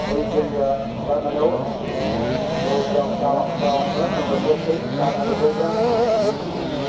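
125cc and big-wheel 85cc motorcycles race on a classic charity scramble track in Northern Ireland, their engines droning and revving continuously at mid distance while a commentator talks over them.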